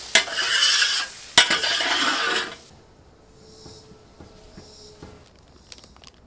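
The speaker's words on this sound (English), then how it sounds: "Which happens to be the perfect amount of time to clean your griddle." A hot griddle being scraped clean after cooking cheesesteaks gives two loud, close bursts of hissing and scraping, then quiet with faint metallic taps and clinks.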